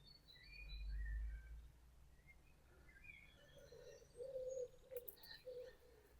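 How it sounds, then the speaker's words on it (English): Birds chirp and trill in a green forest, with pigeons or doves cooing low and steady beneath the song; calls come from several directions at moderate distance, with no voices present. "the birds are so loud"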